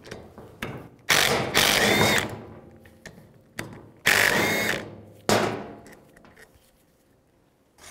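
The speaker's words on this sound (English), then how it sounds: "I'm going to use a 12mm socket, take these two bolts out." Hand ratchet with a 12mm socket working the brake caliper bracket bolts on a 2000-06 GMC Yukon, heard as bursts of rapid pawl clicking in separate runs, close and fairly loud, with quieter gaps between them.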